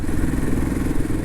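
A motorcycle engine runs steadily at a low, throaty rumble, with a constant droning texture throughout and no talking.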